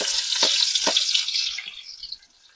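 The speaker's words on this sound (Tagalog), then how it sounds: "Yan, unahin natin itong ating bawang. Tapos itong ating sibuyas." Garlic, onion and ginger hit hot oil in a pan with a bright crackling sizzle, a couple of sharp spits early on, then the frying fades away toward the end.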